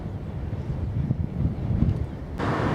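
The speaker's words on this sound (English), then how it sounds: "Wind's picking up as well." Wind buffets the microphone on a seaside clifftop walk between Seaford and Eastbourne, a continuous low rumbling gust that rises and falls, with a brighter rush of air near the end and no voices.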